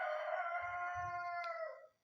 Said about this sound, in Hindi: अरे कोई इस मुर्गी को चुप करा दो।